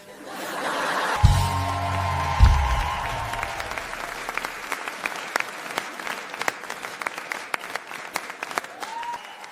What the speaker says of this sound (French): Un tonnerre d'applaudissements pour nos fiancés.